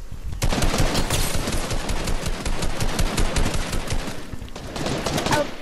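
Rapid automatic gunfire from the Fortnite video game, dense bursts of shots crackling continuously and loudly throughout with brief pauses, no talking over it.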